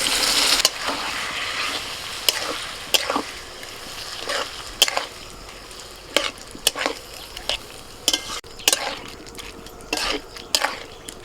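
Washed red lentils tipped into a pan and stirred with vegetables, a sharp scrape and clack of a spoon against the pan repeating irregularly over a soft continuous sizzle.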